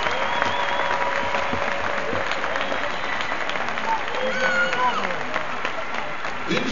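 An audience at an opening-night presentation applauds its club leaders with steady, dense clapping mixed with crowd murmur and a few voices throughout.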